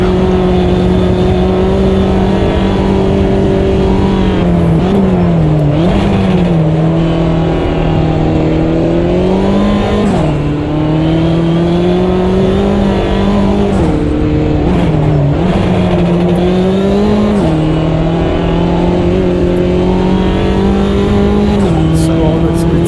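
Mini JCW race car in a league race running at full throttle, a loud sustained engine drone with repeated dips and rises as it shifts gears and lifts for corners, heard from close inside the car.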